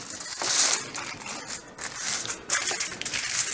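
Aluminium foil is crinkled and shaped by hand into small supports for a cookie tray, giving a close, continuous crackling and rustling with a few louder crunches.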